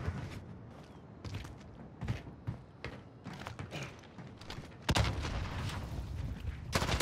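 Rapid bursts of MP5 submachine gunfire in a first-person shooter video game, clustered volleys with short gaps and a louder, denser stretch of shots near the end, with no talking.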